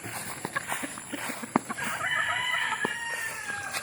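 Chickens clucking in short bursts, then a rooster crows loudly over them, all outdoors with a busy background.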